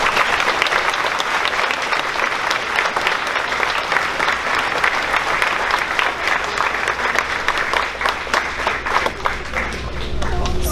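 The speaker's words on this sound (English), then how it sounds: "Please give these students a round of applause." Sustained applause from a crowd at a sixth-grade graduation ceremony, dense steady clapping filling a hall for the full stretch, with some indistinct voices mixed in beneath it.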